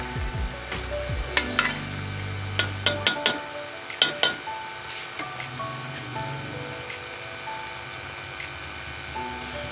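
Spinach and chicken are stir-fried in a pan for palak chicken, with a spatula clanking and scraping in a quick cluster of knocks over a low background hum and faint sizzle.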